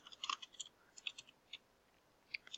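Light, quiet keyboard taps come in short uneven bursts as someone types on a computer, with a few isolated clicks in between.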